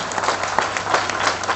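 A crowd at a World Tribal Day gathering in Jharkhand bursts into loud, sustained applause, many hands clapping together in a dense, even roar.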